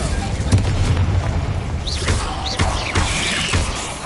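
Incendio fire spell cast in Hogwarts Legacy, a dense burst of whooshing, crackling magical effects with booming impacts layered over steady game background noise, loud and continuous.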